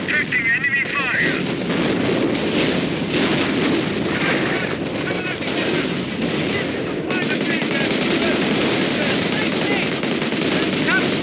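Continuous gunfire and artillery from Company of Heroes: Opposing Fronts, a World War II strategy game, with dense rattling shots and booms layered loudly throughout, without pause.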